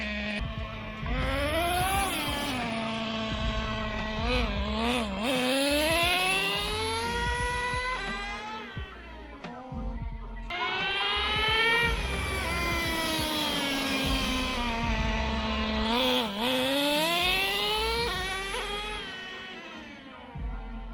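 A Traxxas T-Maxx 2.5 nitro RC truck engine being tuned runs loud and close, a high buzzing whine that revs up and down in repeated sweeps across two long bursts, with a brief drop between them.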